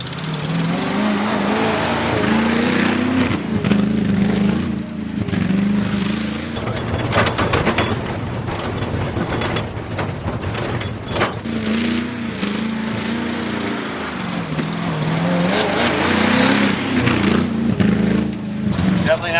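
An International 500 one-ton pickup engine winds out loudly and continuously under way, its low rumble rising and falling with revs, with people talking over it throughout.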